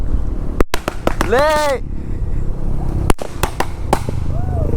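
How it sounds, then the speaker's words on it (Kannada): Firecrackers go off on a rainy day near Kabbinale, an irregular string of sharp, loud cracks arriving in two clusters, while someone shouts and speaks over them. "ಪಟಾಕಿ ಬ್ರೋ ಅದು"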